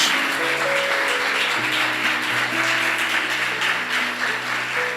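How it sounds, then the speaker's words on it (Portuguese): A church congregation applauds during a service, sustained dense clapping from a large crowd throughout, with faint sustained musical tones underneath. "você pode aplaudir a Deus por essa igreja?"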